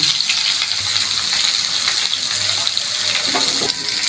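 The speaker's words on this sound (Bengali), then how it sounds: "পেঁপে আর আলুটা বেশ ভাজা ভাজা হয়ে গেছে।" Papaya and potato pieces fry in a pan with a steady, close sizzle and crackle. A faint clink or stir sounds near the end, and nobody speaks.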